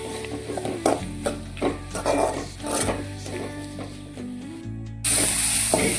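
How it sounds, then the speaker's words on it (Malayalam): Sliced onions sauté with salt in a pan for egg curry, a steady sizzle broken by repeated spatula strokes, with the hiss growing brighter near the end. "നമ്മൾ സവാള നല്ലതുപോലെ വശക്കി കൊടുക്കണം"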